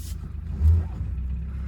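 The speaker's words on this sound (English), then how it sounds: "got the Land Rover started" A Land Rover's engine runs as a steady low rumble, swelling briefly in a short rev before settling back to an even idle, heard up close with no talking.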